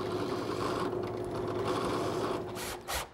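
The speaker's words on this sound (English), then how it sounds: "There's two operations for the screw hole. First, a 3/16 through hole, then a countersink for the screw head." Power drill boring a 3/16 through hole and then a countersink for a screw head in wood, building a carousel table; a steady close whirring motor whine runs throughout, ending with brief bursts near the end.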